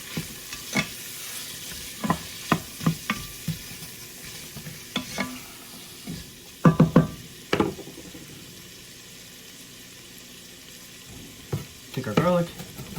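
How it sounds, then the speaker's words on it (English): Onions frying in a pan for beer-braised bratwurst, a steady sizzle under repeated scraping stirs and clunks of a utensil against the pan, close and fairly loud, with a quieter stretch in the middle. "Toss those onions in."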